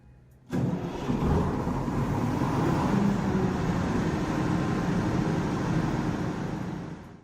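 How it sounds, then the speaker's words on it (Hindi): A diesel generator engine starts abruptly after a short quiet moment, then settles into a loud, steady, close running drone until the end. "जब डीजी चलता है तो वो बहुत ज्यादा आवाज करता है।"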